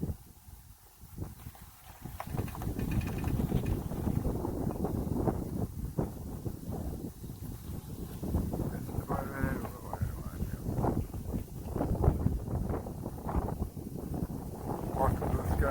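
Storm wind gusting around an open microphone during a July 4th mesocyclone with a shelf cloud, rumbling buffeting that rises after a quieter start and continues under people talking.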